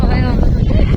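Strong wind blows across open rice fields and buffets the microphone in a loud, rumbling rush, while a person talks over it.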